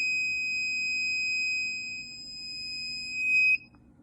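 An Arduino alarm system's buzzer sounds as a loud, steady, piercing electronic tone. It holds for about three and a half seconds, swells briefly, then cuts off abruptly.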